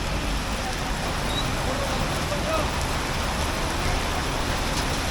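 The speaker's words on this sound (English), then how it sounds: "So far, we're seeing the rain." Heavy rain pours down over Cebu City's Business Park and IT Park, a dense, unbroken roar of falling water and splashing on the ground that holds steady throughout.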